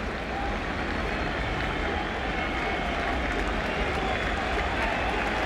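A baseball stadium crowd at 2000 NLCS Game 5 keeps up a loud, steady roar throughout an at-bat, a dense unbroken wall of cheering with no distinct breaks.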